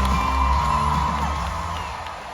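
A large convention crowd at MCM Comic Con in London cheers and whoops for the cast of BBC's Ghosts, a dense, steady roar of voices that fades slightly toward the end.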